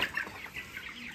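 Chickens on a poultry farm give faint, brief clucks while being handled for weighing in winter.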